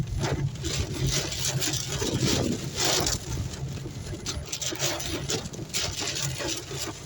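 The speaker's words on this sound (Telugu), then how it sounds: "ఎంత దారుణంగా గాలి వీస్తుందో చూడండి. వర్షం బాగా స్పీడ్గా పడుతుంది" Strong wind gusting with fast, heavy rain in an open farm area, a steady loud roar of wind buffeting the microphone and dense rain noise running continuously throughout.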